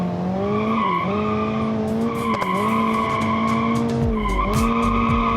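Car tires squeal in a sustained, loud skid in BeamNG.drive, with steady engine drone underneath and the pitch dipping and rising several times as the wheels slide sideways.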